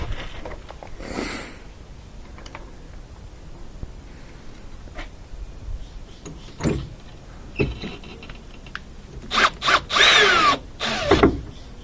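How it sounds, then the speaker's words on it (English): Power drill driving the brake light screws back into a 2004 GMC Yukon, several short whirring bursts with clicks and handling noise between them, close and moderately loud. "Put those screws back in."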